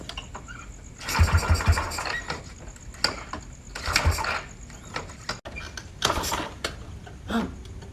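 A stalled motorcycle being started in a Sundanese comedy sketch: several bursts of mechanical cranking and rattling, each lasting about a second and separated by short pauses, with one stronger surge near the start.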